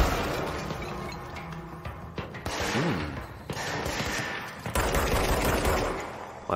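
Gunfire in the video game Control: a quick series of sharp shots and bursts in close succession, loud and up front over game ambience, with no talking.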